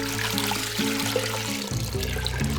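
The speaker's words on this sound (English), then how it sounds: "we're going to take this water and we're just simply going to pour it into our pot" Water pours steadily into a cooking pot in a home kitchen, a continuous splashing, gurgling flow heard up close and loud, with no talking.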